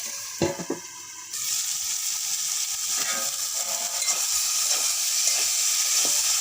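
Chicken sizzles steadily in oil in a pan for a village-style curry, a loud continuous frying hiss after a brief clatter at the start, with no talk over it.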